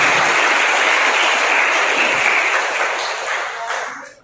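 A big crowd at a commemorative gathering breaks into loud applause, a dense, sustained wall of clapping that gradually thins and dies away at the close.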